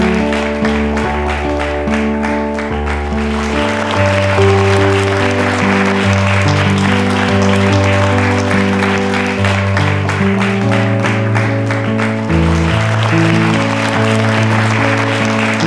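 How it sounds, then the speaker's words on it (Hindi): Audience applause fills the hall at an award presentation during the Rajasthan state round of a National Election Quiz show. It is steady and loud for about sixteen seconds, layered over sustained music-like tones with no speech. "तालियां बजाइए उनके सम्मान में जोरदार तरीके से।"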